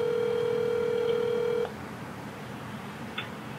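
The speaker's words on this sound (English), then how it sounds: "I think I'll call Leslie and see if she has any ideas." A phone call being placed: a steady dial tone runs for about a second and a half, then a short electronic beep follows in near silence.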